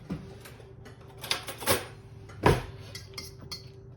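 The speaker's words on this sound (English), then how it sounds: "you want to beat the egg" A utensil beats an egg for a mini meatloaf mix in a bowl, making a few scattered clinks and taps against the dish, close by and fairly quiet.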